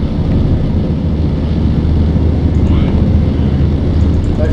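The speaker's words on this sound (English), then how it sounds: "Your planes are really circling me." Aircraft engines drone steadily overhead in the strategy game Empire Earth II, a continuous loud rumble as planes circle the player's base.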